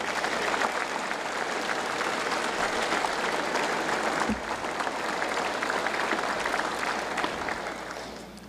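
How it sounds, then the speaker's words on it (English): An audience at a state address applauds heroes in sustained, even clapping that fills the room at moderate volume, fading slightly near the end. "One more round of applause for these heroes."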